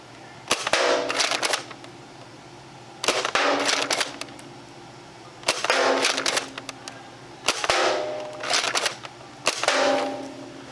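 Gunshots ring out at targets in sharp clustered bursts, about five separate volleys of rapid cracks spaced a second or two apart, each fading quickly, with no talk.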